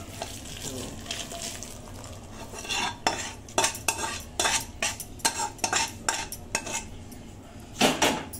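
A spoon scrapes and clanks against a pot while jaggery is stirred into a methi laddoo mixture of dates and filling off the heat, in irregular bursts that grow busier toward the end, with no voices.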